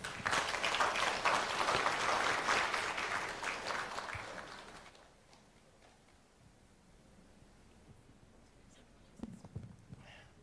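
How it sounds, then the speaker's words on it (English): Audience round of applause at an evening book launch event, a dense loud clapping for about four seconds that fades out into quiet room tone with a few faint scattered sounds. "please join me in giving him a round of applause."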